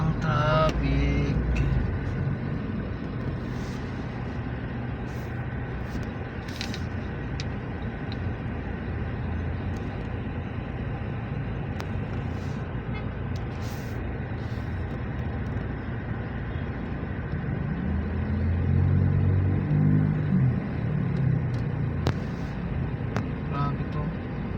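Dense road traffic heard from inside a Toyota Fortuner crawling toward Plaza Dilaw, a steady low rumble of engines and vehicles with a brief heavier engine swell near the end, people talking over it.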